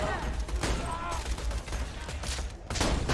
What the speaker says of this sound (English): God, I love Jacob's shotguns.